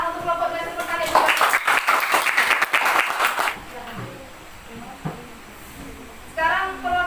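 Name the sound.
applause for a group in class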